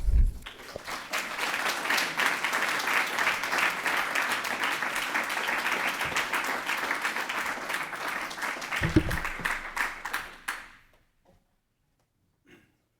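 An audience applauds to welcome poet Tom Pickard at a poetry reading, a steady wash of clapping for about ten seconds that then stops abruptly, leaving near silence.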